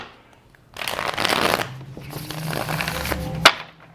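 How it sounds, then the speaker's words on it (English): Tarot cards shuffled by hand in a riffling burst for about a second, then a softer stretch of sliding and tapping, ending in one sharp snap as the deck is squared. "shuffle this one more time"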